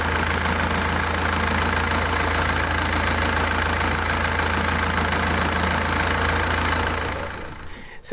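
A sailboat's inboard engine idles steadily with a constant low throb and mechanical rattle, close and loud, before cutting off near the end.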